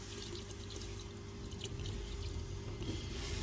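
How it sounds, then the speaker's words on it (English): Water with a splash of car shampoo is poured into a small bucket for claying a BMW E46, giving a steady, soft, continuous trickle and slosh close by with no talking. "Just take 5 liters of water and add a good splash of shampoo to this small amount of water."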